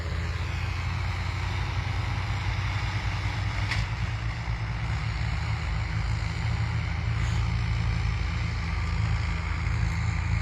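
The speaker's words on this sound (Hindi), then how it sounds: "उन सबको काट कर जो प्रशासन के ट्रैक्टर और बुलडोज़र हैं वो आगे बढ़ रहे हैं" Administration tractors and bulldozers drive over standing crops in Babera village, cutting through pipes and sprinklers: a continuous low diesel engine rumble, steady and moderately loud, with faint intermittent clanks and no voices.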